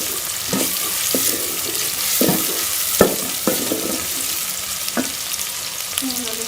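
Onions browning in a pan for aloo badi sabji, a loud steady frying sizzle up close, punctuated by several sharp spoon taps and scrapes against the pan.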